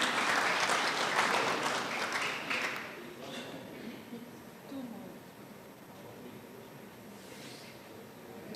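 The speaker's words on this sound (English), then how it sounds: "Let's clap for him." Applause from a group at an annual delegates meeting fades gradually over several seconds, starting fairly loud and tapering to a light patter with murmuring voices.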